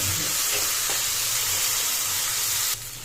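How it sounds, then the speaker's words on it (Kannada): Mutton frying in a pan with coriander and mint, a steady broadband sizzle and hiss running throughout, fairly close and even, with a slight drop in level near the end. "ಕೊತ್ತಂಬರಿ ಪುದೀನ ಎಲ್ಲನೂ ಹಾಕೋಣ ಹಾಕೊಂಡು ಚೆನ್ನಾಗಿ ಫ್ರೈ ಮಾಡ್ಕೊಳ್ಳಿ"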